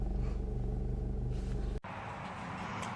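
A car on the road gives a low, steady engine rumble from inside the cabin, then an abrupt cut shifts it to a lighter, airier road hum for the last second.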